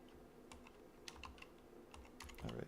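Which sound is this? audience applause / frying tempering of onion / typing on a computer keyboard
typing on a computer keyboard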